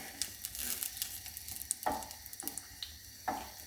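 Vegetables sizzling in a hot pan, a steady soft frying hiss with a few sharper stir or scrape clicks close by, no talking.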